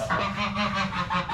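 Geese on an Irish farm honk loudly and repeatedly at close range, a busy overlapping chorus of nasal calls with no one speaking.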